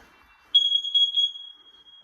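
During a household test, a smoke alarm switches on abruptly with a loud, piercing high tone that wavers slightly, then holds steady and fades gradually over about a second and a half.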